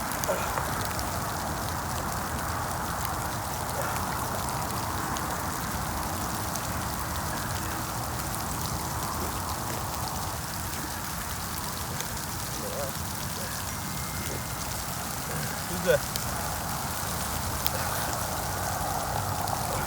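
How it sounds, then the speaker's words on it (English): Steady rain falls outdoors, a continuous dense patter and hiss with no breaks, moderately loud and even throughout. "Darn rain."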